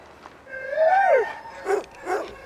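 Sled dogs at a kennel in a cold northern setting: one dog gives a rising-and-falling howl-like whine followed by two short yelping barks, fairly close and alone.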